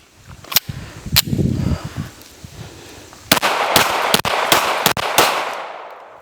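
Springfield Echelon pistol fired after a dirt torture test, a loud close shot followed by a pause and then a rapid string of several sharp gunshots, with no talk over them.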